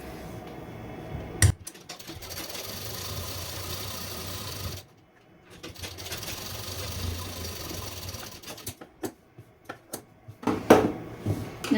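An electric sewing machine stitches the edge of a princess-cut blouse in several running bursts broken by short pauses, ending in choppier stop-start stitching with a few clicks.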